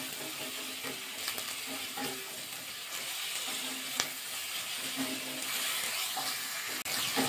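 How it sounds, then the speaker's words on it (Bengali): Fish korma sizzles steadily in a pan as cumin powder is stirred in, a constant frying hiss broken by scraping utensil strokes and a few sharp clinks against the pan. "এবার জিরে গুঁড়োটা দিয়ে দেবো, একটু ভালো করে মিশিয়ে নেবো।"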